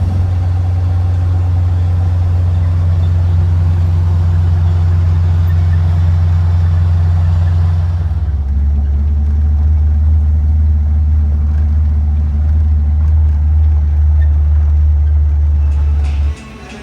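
A Foxbody Mustang budget street-strip drag car idles loudly nearby with a deep, lumpy rumble that shifts pitch slightly midway, holding steady until it cuts off abruptly at the end.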